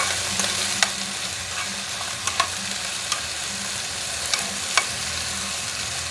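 A spoon stirs vegetables frying in a pan for a budget home-cooked meal, with steady close sizzling and several sharp scraping clicks of the utensil against the pan, no talking.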